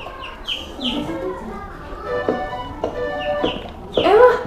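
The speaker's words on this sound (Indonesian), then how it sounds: "Wah, ayam kakek." A chicken clucks repeatedly at close range, with short sharp calls spaced unevenly and a louder squawk near the end.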